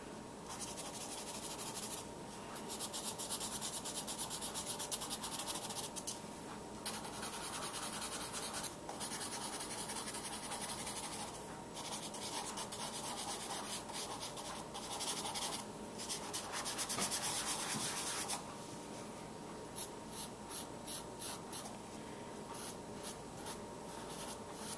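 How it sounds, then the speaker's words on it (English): A charcoal pencil shades across paper in long, steady scratchy strokes, close and soft, broken by brief pauses as the hand shifts. "And you can see how easy it is to shade."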